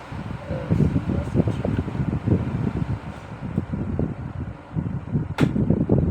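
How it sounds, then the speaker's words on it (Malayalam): An electric fan set beside a phone to cool it gives a steady airy whoosh with buffeting rumble against the mic. A few faint knocks and one sharp click are heard, with no speech. "വെയിറ്റ് ഫാനിൻ്റെ സൗണ്ടാണ്."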